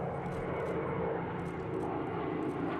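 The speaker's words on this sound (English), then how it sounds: "Moments later, 2 P-51 Mustangs flew astride an A-26 Invader" Two P-51 Mustangs and an A-26 Invader propeller plane fly over during a memorial service, a loud, steady engine roar that holds throughout without any talk.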